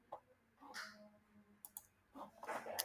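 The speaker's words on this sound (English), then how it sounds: "I click on this one" A computer mouse clicks a few times, sharp and close, scattered over a quiet room with faint rustling in between.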